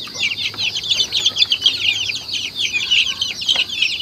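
A batch of about twenty hungry growing chicks, dense high-pitched cheeping and clucking from many birds at once, close and continuous, with no talk.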